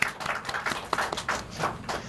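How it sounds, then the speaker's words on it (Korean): A church congregation gives a short round of applause, a brief scattering of light, uneven claps that is fairly quiet and fades within a couple of seconds. "박수 한번 합시다."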